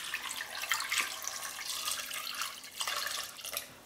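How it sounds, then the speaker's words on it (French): Cold water runs into a pot to cover pieces of veal for a blanquette, a steady faint splashing pour with a couple of surges, heard alone without speech. "On va couvrir avec de l'eau froide."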